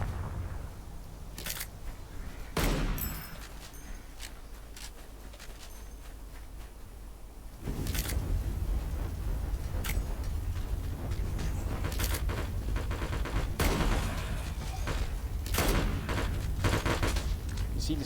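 A detonator charge blows up a rocky outcropping in the video game LifeAfter, heard as a series of sharp blasts followed by a loud, sustained rumble with further bursts.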